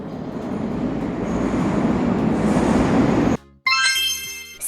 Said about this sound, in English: An intercity train connects big cities together.